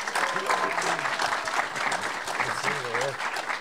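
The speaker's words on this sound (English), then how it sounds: "let's give another round of applause for our panelists" Sustained applause from a large audience for a panel at Fantastic Arcade 2017, loud and steady throughout, with some voices mixed into the clapping.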